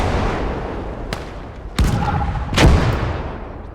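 Tank cannon fire in a video game, several sharp booming shots spaced a second or so apart over a continuous rumbling battle background, loud and close.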